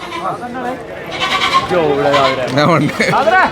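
Goats bleat at a crowded goat market during a festival, wavering cries rising over the steady din of people talking nearby.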